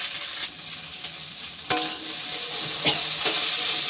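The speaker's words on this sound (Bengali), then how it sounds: "এবার এগুলোকে এভাবেই ভাজা করবে।" Thick taro stolons (kochur loti) frying in a pan of hot oil, a continuous close sizzle with a few sharp clicks and scrapes as they are stirred about, no voices.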